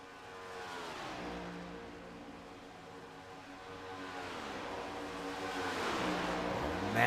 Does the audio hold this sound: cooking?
no